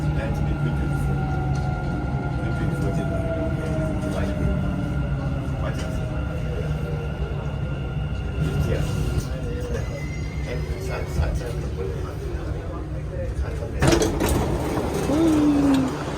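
A Dubai metro train rumbles and grinds with mechanical clatter and a falling whine as it slows into a station, followed by a hiss and a short squeal near the end.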